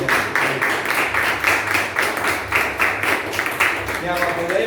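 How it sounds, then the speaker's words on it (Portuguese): A church congregation claps together during a Sunday service, a steady rhythmic beat of many hands filling the room, with voices murmuring underneath. "E as palmas mais uma vez."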